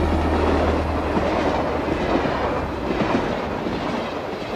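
A fast passenger train runs on rails, a steady loud rumbling roar with low hum and rushing noise throughout, no break in the sound.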